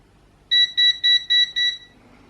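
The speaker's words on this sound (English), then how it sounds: "It's me multimeter whinging that I haven't turned it off." A digital multimeter left switched on gives five short, high electronic beeps in an even rhythm, clear and close against a quiet electronics workbench.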